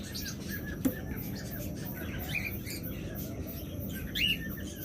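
A pair of opaline pet budgerigars in breeding condition chirps with scattered short tweets over a steady low hiss and background noise, faint and somewhat distant, with a sharper call near the start and near the end.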